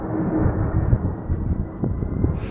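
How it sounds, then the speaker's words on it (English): Aeroplane passing overhead on the Heathrow flight path beside the Chelsea Harbour waterfront in London, a steady low rumble held throughout at moderate distance with some wind buffeting. "I don't know if you can hear the planes overhead. In fact, there is one up there. We are on the flight path for Heathrow."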